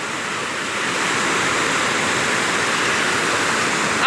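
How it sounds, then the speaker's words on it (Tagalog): Strong rushing water at a waterfall, a loud dense and steady roar of falling water heard up close, unbroken for a few seconds with no voices. "Wow, lakas ang lakas ng tubig!"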